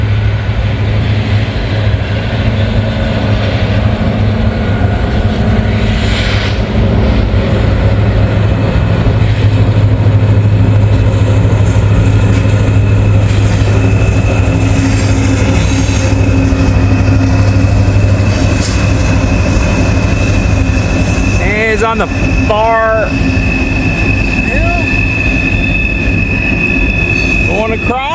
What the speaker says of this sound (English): Looks like we got an ethanol train